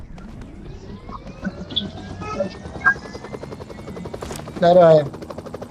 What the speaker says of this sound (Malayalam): ആടെ പോടാ, ഹെലികോപ്റ്റർ